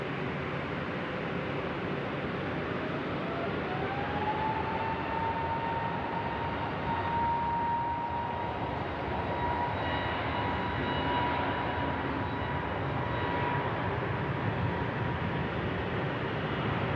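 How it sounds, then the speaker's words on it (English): A Jetstar jet, flight 956, takes off from runway 16 right at Sydney Airport at night, its engines a steady, broad roar that holds loud and constant throughout with a rising whine, no voices over it. "Jetstar 956 now cleared for takeoff."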